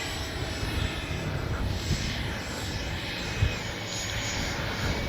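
Freewing A-6 Intruder 80mm electric ducted-fan RC jet taking off, a steady loud whining rush of the fan that holds throughout, nearby and outdoors, with a brief bump of handling noise and no clear speech.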